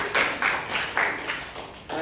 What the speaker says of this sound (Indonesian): Berikan aplaus untuk nomor 2.